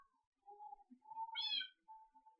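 A cat meows several times in the Minecraft video game, a short run of clear, moderately loud in-game cries with no talk over them.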